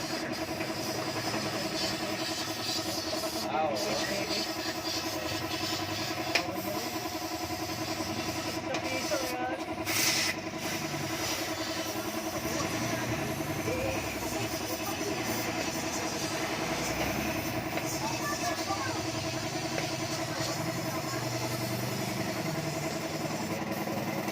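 A motorcycle engine runs steadily after a carburetor cleaning, a constant mid-pitched idle hum with faint mechanical vibration, heard at moderate distance over about twenty-four seconds with a few brief clicks and knocks.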